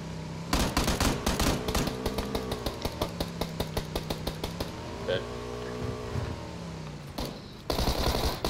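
Rapid automatic gunfire in the shooter game PUBG, a Tommy gun firing long sustained bursts with dense evenly spaced shots and engine-like drone underneath, while players talk excitedly over it.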